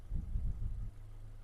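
A Volkswagen Caddy 1.6 MPI petrol engine idles steadily, its low, even hum rougher and louder at first, then settling into a smooth, constant drone with no voices.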